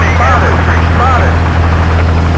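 Loud, close helicopter rotor and engine drone from Battlefield 2 on the Gulf map, a constant thumping roar with game radio voice chatter over it.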